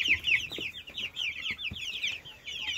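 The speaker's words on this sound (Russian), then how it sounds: "Давненько я вам не показывал вот этих цыплят с индюшатами, которые выводились у меня в инкубаторе." Month-old incubator-hatched chicks and young turkey poults cheep and peep in a continuous high chorus, with soft clucking and scattered low knocks beneath, close and steady throughout.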